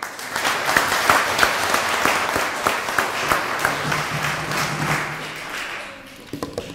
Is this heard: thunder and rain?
no